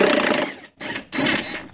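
Impact wrench working a stuck nut loose on a car battery cable during an electrical upgrade, heard as three loud, close rattling bursts separated by short pauses.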